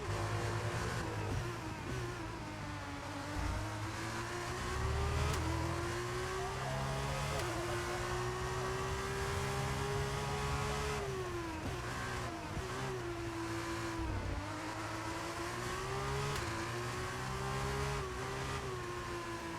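Race cars in a racing video game hold a continuous, loud engine whine that rises and falls through gear changes, with brief dips between shifts and a steady roar throughout, while someone talks faintly beneath it.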